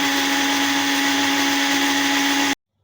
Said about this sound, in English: Now I have to blend all these ingredients along with the cream.